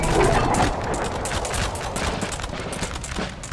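Massed musket fire in the video game Napoleon: Total War during an online battle, a loud, continuous crackling volley of overlapping shots with no break throughout.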